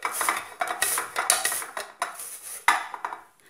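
Zucchini scraped against a household grater in a home kitchen, giving a run of quick rasping strokes with clinks of metal against a dish, steady then pausing, close up with no voices.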